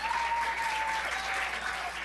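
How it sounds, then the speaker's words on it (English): Brief burst of applause from attendees at a community council meeting, moderately loud clapping across a short stretch with a faint tone lingering beneath. "A round of applause"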